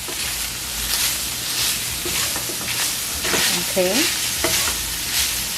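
Ground meat filling with adobo seasoning is stirred in a hot, sizzling pan, steady frying hiss with a spoon scraping in repeated strokes close up, while someone speaks briefly.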